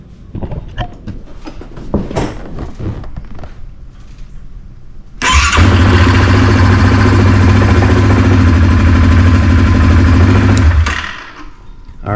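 A Yamaha Kodiak 700 ATV engine, freshly fitted with a new starter, cranks briefly and fires right up, then settles into a loud, steady idle close by for several seconds before cutting off; scattered clicks and handling noises come first.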